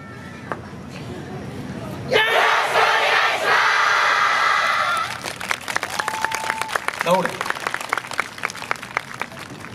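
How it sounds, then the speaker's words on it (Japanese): Audience at an outdoor yosakoi dance festival breaks into loud, dense crowd noise and cheering, then settles into steady rhythmic clapping along with sharp repeated claps, with an announcer's voice over the crowd. "どうか手拍子心拍子のほどよろしくお願いします"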